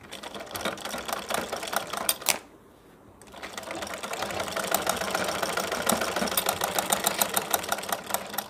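A domestic sewing machine stitching cloth for a baby napkin hanger, a fast mechanical clatter running in bursts, briefly stopping near the middle before resuming steadily, close and loud with no talking.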